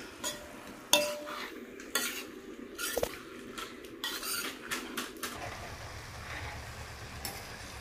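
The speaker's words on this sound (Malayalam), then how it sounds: "നന്നായിട്ടൊന്ന് മിക്സ് ചെയ്ത് കൊടുക്കാം" Spoon scraping and clattering in a pan while heated ground spices are mixed for a Kerala-style chicken curry, with irregular metallic knocks and a faint sizzle underneath, close up.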